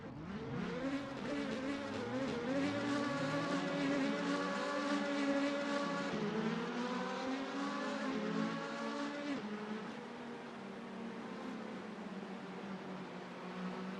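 Indy Lights race cars launching from the start on the Daytona Oval in a racing video game, a loud sustained engine drone with rising and falling pitch as several cars accelerate together and shift, alone with no talk.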